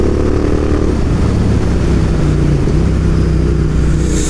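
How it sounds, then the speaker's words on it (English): Royal Enfield Interceptor 650 motorcycle engine running loud and close throughout, with a steady throbbing drone and brief throttle blips while riding, no voices. "We're gonna do little blips to downshift."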